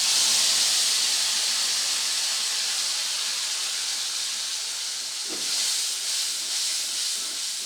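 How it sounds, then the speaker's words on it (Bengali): Spiced paste hitting hot oil in a pan while cooking a raw hilsa fish curry, giving a loud, steady hiss that holds throughout, with a brief swell near the end. "এই যে মশলাটা রেডি করে রেখেছিলাম সেটা তেলের মধ্যে দিয়ে দেব"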